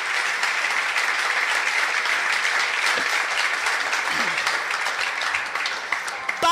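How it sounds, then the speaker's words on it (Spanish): A church congregation applauds loudly and steadily, a dense wash of many hands clapping together that holds for several seconds before a brief dip. "Denle un fuerte aplauso a Jesús."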